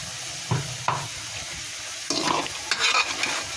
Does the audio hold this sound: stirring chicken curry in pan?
yes